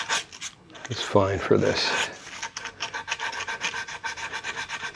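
Worn-down, low-grit sandpaper rubs over body filler on a guitar body in quick, rhythmic rasping strokes close by, with a brief spoken remark over the start.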